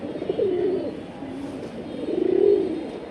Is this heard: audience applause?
no